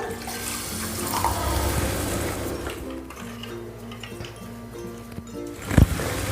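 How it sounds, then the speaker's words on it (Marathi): Water poured into a vessel of buttermilk mixed with gram flour and turmeric for Vidarbha-style kadhi, a steady pouring splash over a faint background hum, with a brief louder knock near the end. "ताक कितपत आंबट आहे त्याच्यानुसार पाणी टाकायचं"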